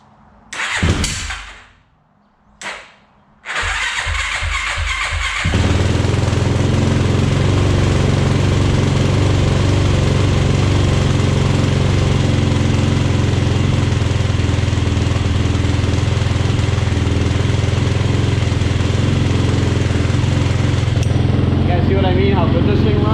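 A 2007 Yamaha YFZ450R ATV engine cranks a couple of times, catches and settles into a steady, loud raised idle with an even, throbbing single-cylinder rumble that runs on continuously.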